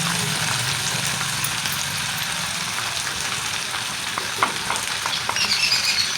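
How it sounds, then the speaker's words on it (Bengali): Spice paste sizzles and fries steadily in hot oil for a chitol fish curry, a loud continuous crackling hiss with light stirring clinks toward the end. "অল্প আছে মশলাটাকে ভালো করে কষিয়ে নেব"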